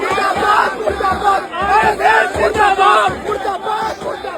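A protest crowd chants zindabad in loud, rhythmic unison, the slogan repeating in steady bursts of many voices close by.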